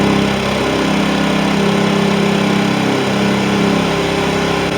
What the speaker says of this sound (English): These Honda generators are about just as loud as a regular generator you get off the Facebook Marketplace or something.